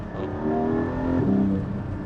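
Porsche 718 Cayman GT4 engine revs loudly and steadily up through a gear change, a rising harmonic howl that dips briefly and climbs again, close and alone.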